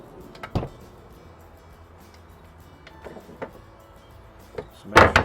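Freezer drawer in the galley of a Grand Banks Eastbay 50 SX yacht sliding open or shut: a few soft clicks and clunks spread out, ending in a louder rattling thump, close by with no talking.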